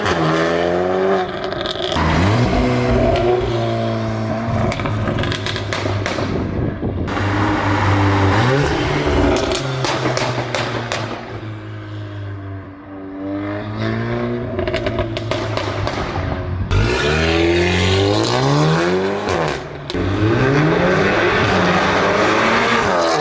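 A VW Mk8 Golf R with stage 2 tune, OPF delete and decat revs hard through rising gear pulls, exhaust roaring and popping between shifts, close and dominant throughout.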